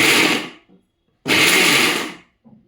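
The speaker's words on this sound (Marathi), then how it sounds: "एकदम थोडंसं मिक्सर फिरवलेलं आहे" Two loud bursts of a kitchen mixer grinder coarsely grinding pigeon pea grains with chili, garlic and ginger, each a dense whirring grind of about a second with a short pause between, close and without talk.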